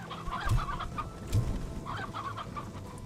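Chickens in a video game cluck and squawk in two short bursts, close and fairly loud, with no talking.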